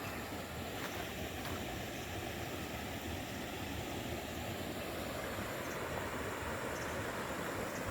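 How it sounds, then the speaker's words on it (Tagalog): Continuous rushing water of a flowing stream with a small cascade, steady and fairly soft, with no voices. "Meron doon parang mini falls no."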